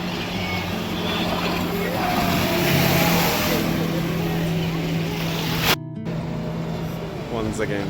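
A speedboat on Chengulam dam lake in Munnar, Kerala, heard as a steady nearby engine drone over water that swells in the middle, then cuts briefly before continuing more softly; voices talk faintly in the background.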